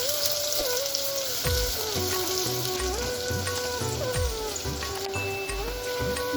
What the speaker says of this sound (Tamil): வெங்காயம் பார்த்தீங்கன்னா நல்லா பொன்னமா வதங்கிட்டு